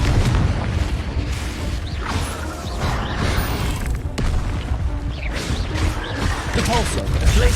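Spell-casting combat effects from the PC game Hogwarts Legacy, with the Confringo fire spell bursting in a dense, continuous mix of booms, pops and crashes, a sharp blast standing out midway, amid other spell sounds.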